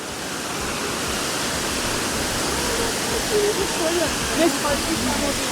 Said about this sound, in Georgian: ნახეთ რა ლამაზ ჩანჩქერს მივადექით